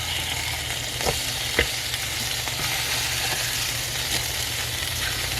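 Steak, heavily peppered, sizzles in a pan after flipping: a steady hissing fry fills the space, broken by a few faint taps and clicks of a utensil.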